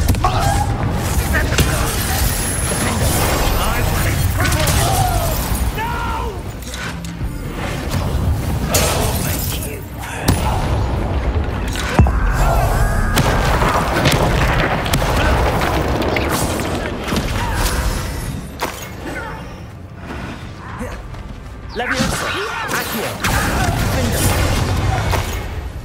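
The Confringo fire-blast spell in the Hogwarts Legacy video game bursts amid a chaotic fight near a Thestral nest, with booms, shattering and clattering effects under game music and character voices.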